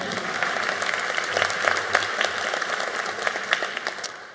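Graduation hooding ceremony crowd for a school of the arts applauding faculty, staff and families, a dense sustained clapping with a few sharper individual claps standing out.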